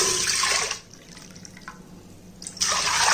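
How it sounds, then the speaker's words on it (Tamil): Water runs and splashes steadily into a cooker holding brown rice, breaking off briefly in the middle before pouring loudly again, close by with no talking. "இப்போ இந்த அதே கப்பில் நம்ம 1 கப்பு ரைஸ்க்கு 2 கப்பு தண்ணி ஊற்றணும்."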